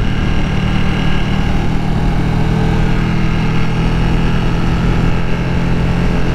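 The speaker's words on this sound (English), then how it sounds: "Bike sounds great." A 2020 Ducati Panigale V2 motorcycle engine running steadily in third gear around 6,000 RPM, a loud continuous drone with wind rush, heard without speech.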